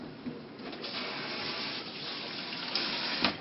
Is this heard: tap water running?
yes